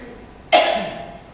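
One sharp, close cough that trails off quickly.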